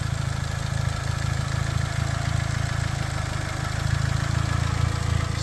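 A restored Honda Civic engine idles smoothly and evenly after sitting parked for 20 years. The steady low throb has a rapid regular pulse, is close and fairly loud, and plays with no talking.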